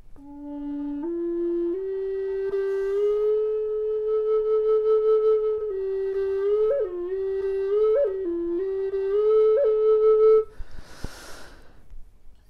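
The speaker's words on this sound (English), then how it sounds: "So tonguing at the beginning of a slide then sounds like this." A solo flute holds a long, close, steady phrase that begins with a tongued attack and slides smoothly between pitches with a few bends, then ends with a brief breathy puff.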